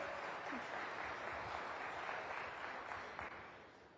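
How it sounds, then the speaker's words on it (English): An audience at a Web3 event in Jaipur applauds in a dense, continuous wash of clapping, fairly distant and steady, thinning slightly toward the end. "Have a clap for us."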